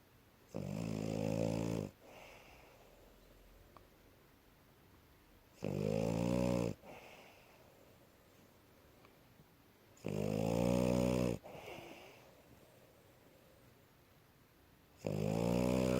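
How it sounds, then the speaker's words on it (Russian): A French bulldog snores steadily in deep sleep, with four loud, rasping inhalations spaced about five seconds apart and quiet breathing in between, close and alone. "Храпит, конечно, как не дама"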